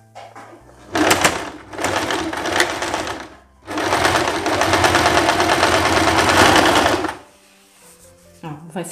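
A sewing machine stitches a folded hem on a wrap blouse in two bursts, a short run and then a longer steady whirr of rapid needle chatter, close and loud, with a pause between.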